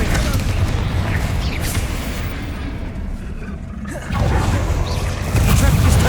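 The Confringo fire spell in Hogwarts Legacy goes off in loud, booming blasts amid continuous roaring combat noise, with a character's voice shouting spell names over the din.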